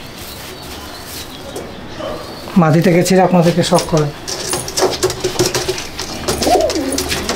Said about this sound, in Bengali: অনেক পুরনো পায়রার বাচ্চা এগুলো